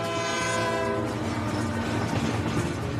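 A potash freight train approaches, its horn blaring loudly at first before the heavy rumble and rolling clatter of the cars take over, continuous and close.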